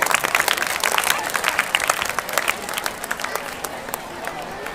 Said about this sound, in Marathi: सर्वांनी जोरदार एकदा टाळ्या वाजवायच्या आहेत